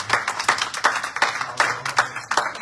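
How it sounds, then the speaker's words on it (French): A congregation at a French-language church sermon claps for a mother: close, loud handclaps in uneven bursts from a smallish group, with brief gaps between flurries and no voices. "on applaudit pour maman"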